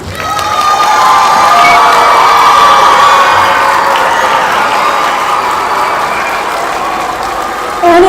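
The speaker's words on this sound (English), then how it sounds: "one more round of applause for our vets" A loud crowd applauds and cheers for veterans at a school Veterans Day event, clapping mixed with shouts and high children's voices, sustained and close throughout.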